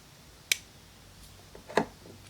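Blade of an SQT2048 multitool locking into place, two sharp, faint clicks about a second apart in a quiet room.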